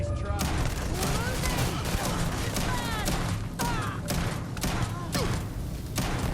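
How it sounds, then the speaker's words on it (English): Rapid shotgun fire and bursts of combat in the space game Starfield, repeated blasts with whizzing ricochet-like streaks over a loud, busy battle bed. "just kind of fire from the hip, but whatever, it did the trick"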